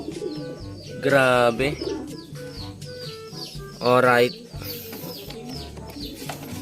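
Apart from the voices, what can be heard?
pigeons cooing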